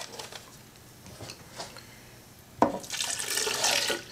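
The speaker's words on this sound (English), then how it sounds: "before we add the rest of the spring water" Spring water is poured into a blender holding minced Irish sea moss for gel, giving soft splashes and trickles that become a fuller, louder pouring rush toward the end.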